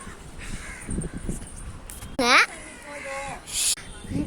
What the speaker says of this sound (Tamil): நீங்களே பாருங்க எத்தனை காக்கா இருக்குன்னு